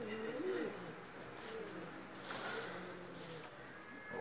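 Pigeons coo in a short series of soft, low, rolling calls with a few higher chirps, faint and close in an otherwise quiet space.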